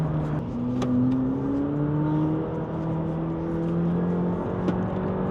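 A McLaren 720S accelerating on a race circuit in Dubai, heard from inside as a steady loud engine drone with gradually rising pitch over several seconds, no talk.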